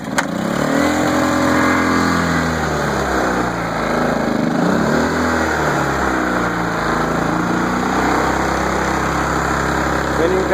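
Generac iX2000 inverter generator running after a pull start, a steady close engine drone with a wavering pitch that rises and settles, loud and continuous throughout.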